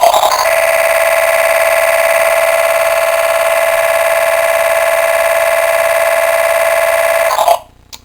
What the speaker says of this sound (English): sounds for when the RV is supposed to be like driving